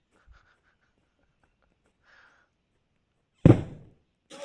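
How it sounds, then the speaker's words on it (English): Firework set off beside the player in the online game Wild Terra 2: a sharp, loud bang near 3.4 seconds, decaying over about half a second, then a second burst at the very end, following near silence with faint clicks. "he just come next to me and set a firework off."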